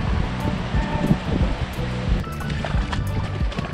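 Surf washing onto a beach at Barn Hill in the Kimberley, where nine-metre tides sweep the sand, a steady broadband rush of breaking waves with some gusty wind noise.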